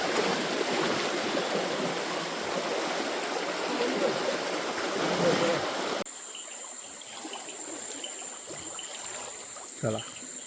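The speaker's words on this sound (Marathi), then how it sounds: "पाण्याचा फुलभाव किती आहे" A river in the Konkan region flows with a loud, continuous rushing wash for about six seconds, then the scene cuts to a much quieter backdrop with a faint high whine and a brief knock near the end.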